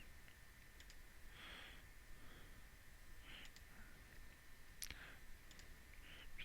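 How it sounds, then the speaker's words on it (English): Computer mouse clicks while setting up online refunds for a laundromat, a few faint, sharp, isolated clicks spaced seconds apart over quiet room tone. "So I'm going to click on that one."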